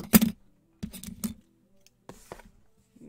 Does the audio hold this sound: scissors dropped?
yes